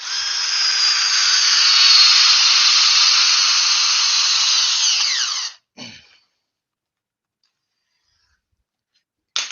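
A DeWalt cordless drill (708 model) runs under load during a torque test, whining loud and close for about five seconds before stopping abruptly with a short clatter as the chuck lets loose.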